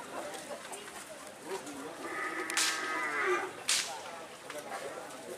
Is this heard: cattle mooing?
yes